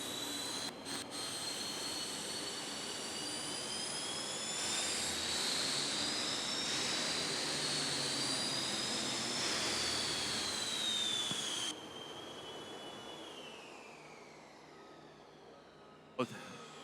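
A super modified turbine pulling tractor spools up at the start line of a Pro Pulling League event. A loud, steady jet-like whine holds, with rising and falling pitch sweeps, then cuts down near the end. An announcer talks over it.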